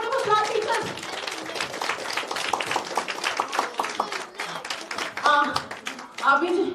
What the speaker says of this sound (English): And big round of applause, teachers.